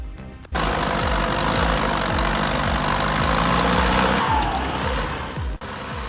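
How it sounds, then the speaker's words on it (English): Steady, loud engine drone of an LKT81 Turbo logging machine running continuously, with a low rumbling pulse throughout. "The LKT81 Turbo is a super powerful logging machine."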